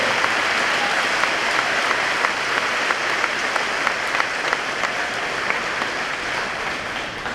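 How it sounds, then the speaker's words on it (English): Audience applause for scholarship winners at a senior awards assembly, a steady dense wash of many hands clapping that holds evenly throughout without voices. "please give all these scholarship winners a wonderful round of applause"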